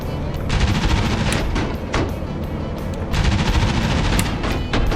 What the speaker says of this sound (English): There's the Panzer IV shooting at me.